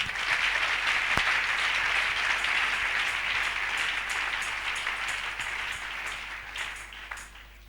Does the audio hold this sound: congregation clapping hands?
yes